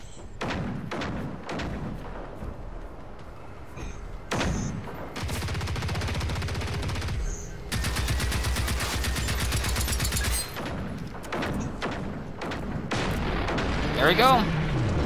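Gunfire in the video game Generation Zero, with dense rapid bursts of shots and heavy thuds over several seconds, loud and close, as people talk between volleys.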